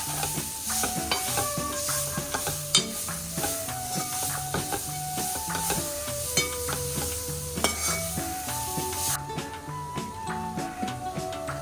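Carrot, capsicum and cabbage stir-fry in a pan for millet noodles, giving a soft, steady sizzle and hiss beneath prominent melodic background music.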